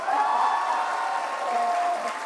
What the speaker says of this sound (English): I request the audience to please welcome him with a round of applause.